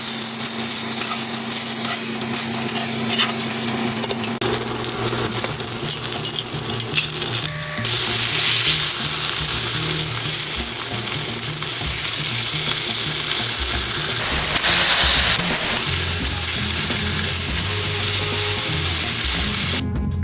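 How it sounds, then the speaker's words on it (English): A 20-month-old seasoned ribeye steak sizzles loudly in a hot pan, a dense, continuous spitting hiss with brief dips and bursts of flare-up spray, close and with no voices. "Our 20-month-old ribeye steak is seasoned and ready to cook"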